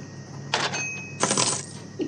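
Coins clatter in a payment-skill mobile game, two bursts of jingling coin sounds about half a second apart, crisp and close, with no voices.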